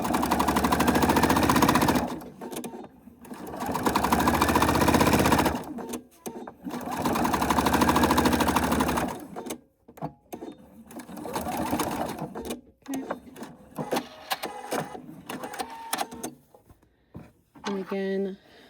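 Close, loud sewing machine bursts backstitching a seam on a small fold-and-store project, three long runs separated by short gaps, followed by quieter handling and a person speaking.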